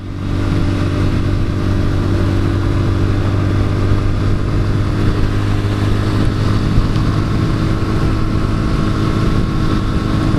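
A Lexmoto Assault motorcycle, a low-mileage four-year-old bike fresh from its MOT test, runs steadily on the road with a constant, loud engine drone and wind rush throughout, no speech.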